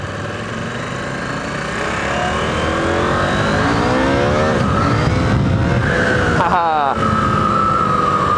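A KTM 890 Rally motorcycle accelerates through the gears, its engine note climbing loud and close with rising pitch sweeps, a brief shift dip, then revving on against wind noise.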